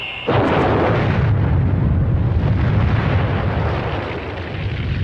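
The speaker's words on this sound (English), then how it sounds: "a pressure regulator malfunction had caused the engine to explode." An X-15 rocket engine explodes during a ground test after a pressure regulator malfunction, a sudden loud blast swelling into a sustained, dense roar that fills the whole clip.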